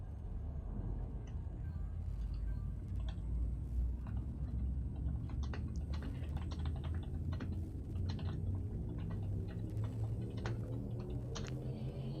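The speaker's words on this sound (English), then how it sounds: "I was typing out a Discord message." Computer keyboard typing, a steady patter of light, quick key clicks over a constant low rumble, close and fairly quiet throughout.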